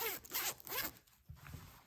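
A smooth zipper on a ChiaoGoo knitting needle case glides open in two quick, soft rasping pulls, close and fairly quiet, with no talking.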